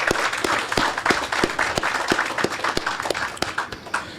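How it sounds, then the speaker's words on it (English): An audience at a community project kickoff applauds, a lively burst of claps with several sharp individual hand strikes standing out near the microphone over a steady crowd patter. "let's give you a round of applause"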